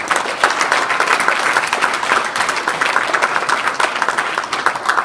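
A dense, steady round of audience applause at a fraternity Founders Day event honoring scholars, loud and sustained throughout with no voices above it.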